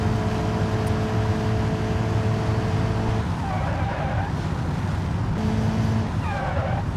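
Car engine straining at high RPM past 7,000 in the BeamNG driving game: a steady, loud buzzing drone holding for several seconds, with brief tyre squeals breaking in near the end.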